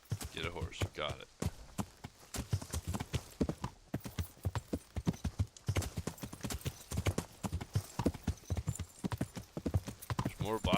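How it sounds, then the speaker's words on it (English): Horse hooves in the medieval video game Kingdom Come clip-clop steadily and up close as the horse trots, a loud rhythmic beat that runs the whole way through with brief pauses. "Get a horse. Got it."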